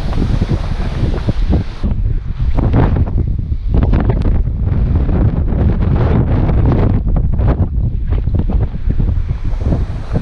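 Strong wind buffets the microphone on an exposed coastal trail at Punta del Hidalgo. A loud, constant rumbling roar fills the whole stretch, with surf-like gusting underneath and no voices.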